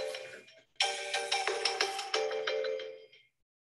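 A phone ringtone plays a bright, repeating electronic melody for about two and a half seconds, clear and alone, then cuts off into silence.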